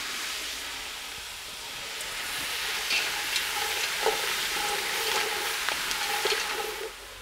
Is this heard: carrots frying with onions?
yes